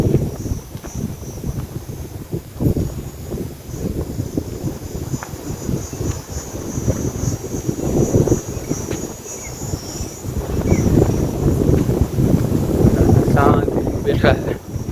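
Steady wind blows outdoors in hot weather, rumbling and buffeting across the microphone throughout and growing stronger in the second half.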